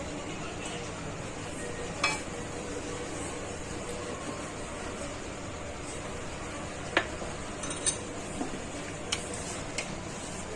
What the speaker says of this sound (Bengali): খুন্তিটা দিয়ে তেলটাকে একটু নাড়াচাড়া করে দেবো, যেন চারিধারে তেলটা হয়ে যায়।